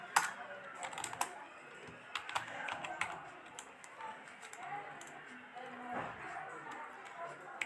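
Quiet, irregular keyboard typing while Python code is entered, with soft clicks coming in uneven clusters and short pauses between them, close and alone.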